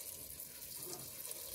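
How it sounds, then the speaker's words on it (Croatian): Hot water pours into a pot of peas and a piece of celery root, a faint, steady, continuous splashing stream with no talking. "Sipat ću vruće vode"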